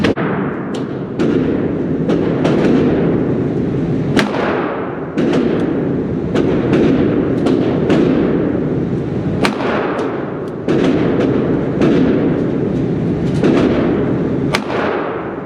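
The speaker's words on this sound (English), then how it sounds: "we're gonna go ahead and just shoot for that one, and then we're gonna do 3 more on the right side" Taurus 856 .38 Special revolver fired repeatedly at a shooting range, several loud, sharp shots spaced a second or two apart over a steady loud background, with no talk.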